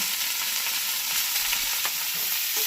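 Onions frying in hot oil for a Bengali piyaj posto, stirred in the pan: a steady, fairly loud broadband sizzle with light scraping of the spatula, and no one talking.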